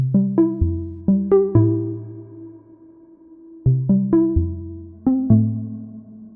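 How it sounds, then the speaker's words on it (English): Bright synth plucks play a bouncy melodic phrase in short clustered notes, each decaying quickly, with a brief gap before the pattern returns. "I'm going to show you how to recreate that Pluck using both Serum and Massive"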